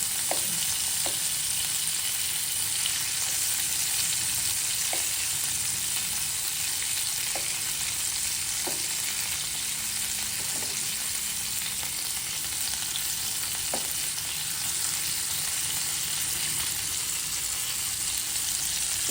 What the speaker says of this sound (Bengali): এবার মাছগুলো হালকা ভাজা হয়ে গিয়েছে 1 মিনিটের মতো